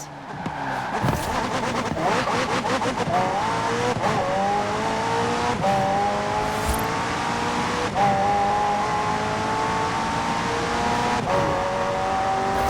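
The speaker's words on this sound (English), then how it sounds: "The car's blistering performance is delivered by a twin-turbo V8, supplemented by a McLaren ECU electric motor and instant power assist system" A McLaren twin-turbo V8 hybrid race car in Forza Horizon 4 revs hard and climbs through the gears, with rising engine whine, brief tire squeal and loud, continuous engine roar throughout.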